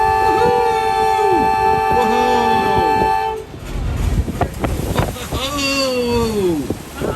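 Amphibious duck tour boat, a bus-like vehicle, plunging off a ramp into Boston's Charles River: a long steady horn blast cuts off into a rush of splashing water and engine churn, with passengers whooping and shouting nearby throughout.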